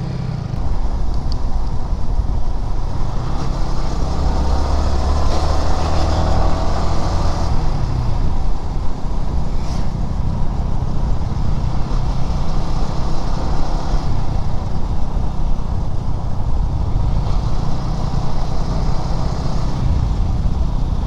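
A modified V3 motorcycle rides along a rural village road past mustard fields on a foggy morning, its engine a steady loud drone blended with wind rush for the whole stretch, with no talking.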